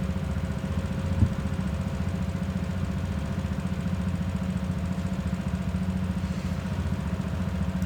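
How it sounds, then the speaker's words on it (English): A go-kart engine drones steadily at a fairly constant pitch, close and continuous, with no clear rises in speed and no voices. "So I just rev up the engine"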